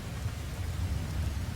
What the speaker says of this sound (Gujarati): કિન્નૌરમાં ભારે વરસાદથી નાળા વહેતા થયા છે।